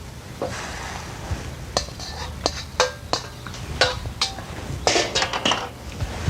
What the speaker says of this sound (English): Now at this point we can add the tofu back to the pan And toss again.